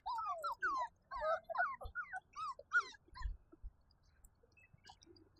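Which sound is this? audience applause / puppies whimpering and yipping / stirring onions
puppies whimpering and yipping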